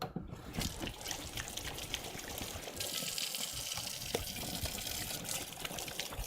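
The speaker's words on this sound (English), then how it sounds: "Let me wash my hands real fast." Running faucet water splashing steadily at a kitchen sink while hands are washed, a continuous close hiss with small splashes and no talk.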